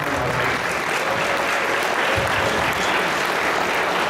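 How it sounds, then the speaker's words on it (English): Steady applause from a sizable crowd at the MAGFest 2019 opening ceremonies fills the whole stretch, dense clapping without pauses and no talking over it. "Round of applause for MAGFest."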